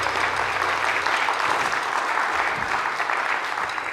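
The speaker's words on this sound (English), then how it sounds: "Can we have a round of applause for that?" A church congregation claps continuously, a dense and loud wash of applause that holds steady from start to finish.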